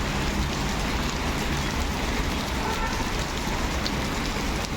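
Steady, dense rainfall pattering on surfaces in Nagpur, an even wash of noise throughout with no voices.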